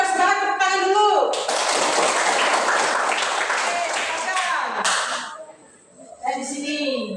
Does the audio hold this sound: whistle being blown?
no